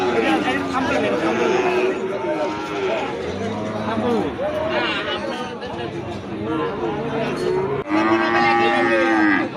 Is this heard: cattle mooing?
yes